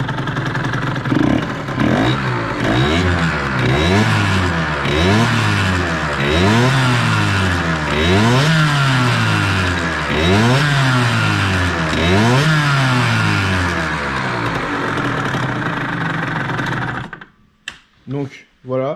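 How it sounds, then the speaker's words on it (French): Loud, continuous mechanical clatter and whine from a motorcycle engine with a faulty clutch, running steadily with rhythmic pulsing for about seventeen seconds before cutting off abruptly into a few sharp knocks. "il y a un bruit extrêmement fort dans l'embrayage"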